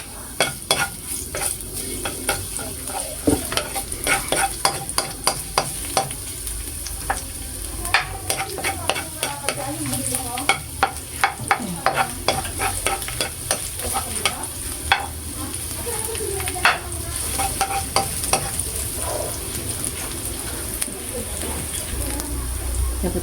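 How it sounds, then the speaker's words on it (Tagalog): Garlic sautéing in a pan crackles with a steady sizzle, punctuated by frequent clinks and scrapes of a utensil stirring, with faint birds and a voice occasionally talking in the background. "Ayan po't magigisa na tayo. Lagyan na po natin yung ating bawang."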